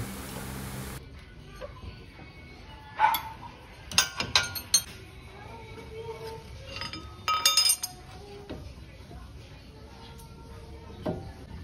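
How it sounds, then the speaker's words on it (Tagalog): Metal tools clink and scrape in sharp, irregular bursts as a crowbar pries and wiggles a front brake caliper loose on a Honda City, with quieter gaps between clusters of knocks. "Sa pagbukas ng caliper, gumamit kayo ng crowbar or flat screw kung meron kayong matibay."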